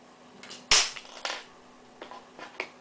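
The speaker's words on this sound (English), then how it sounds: "This one has just a couple of little action features. The first one is a firing missile." A Galoob Micro Machines Action Fleet TIE Bomber toy fires its spring-loaded missile with one sharp, close snap, followed by a few softer plastic clicks and rattles.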